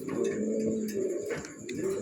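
Pigeons on a farm coo in soft, rolling low calls that repeat close by and overlap one another with no break, and no voices are heard.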